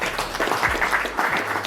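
An audience applauds a panel at a Bitcoin event, with a brief burst of clapping heard at moderate distance in a room.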